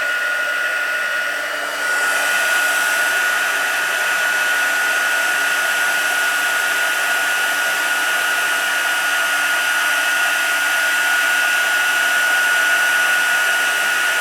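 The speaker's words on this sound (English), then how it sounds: "if you're new to heat bossing, it's a good idea to keep your heat tool still over each bit that you're working on" A heat embossing tool blows hot air over stamped cardstock, making a steady, loud whirring hiss with a thin whine. It stays constant for about fourteen seconds close to the recording device, with nobody talking.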